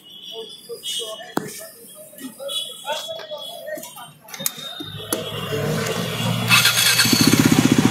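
A KTM Duke 390 motorcycle engine cranks and catches, settling into a loud, steady idle after a stretch of clicks and mechanical rattles.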